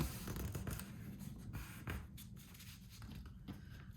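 A4 sheet of paper being creased and folded into a concertina for a valentine card, giving repeated soft crinkles and brushing rustles up close, with no talking.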